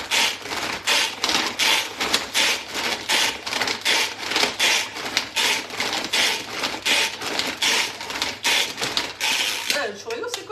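A blender chops chorizo in quick, repeated pulses, a loud rhythmic run of short grinding bursts that continues evenly, then breaks up at the very end.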